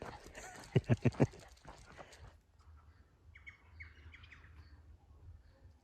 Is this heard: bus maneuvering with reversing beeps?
no